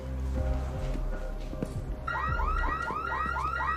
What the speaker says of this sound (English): The alarm should be going off right about now.